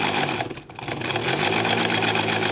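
A sewing machine stitches fabric for a scrunchie, its motor whirring loud and close in a steady, continuous run with a short slowdown near the start.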